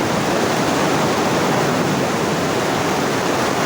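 Steady, loud rush of flowing water fills the whole stretch without a break, a dense broadband wash like a strong stream or outpouring, with no voices over it.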